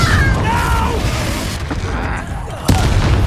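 A Hogwarts Legacy duel in which a Confringo blasting spell bursts with booming, gunfire-like impacts over rumbling game noise, ending in a sharp loud crack, while voices shout spells throughout.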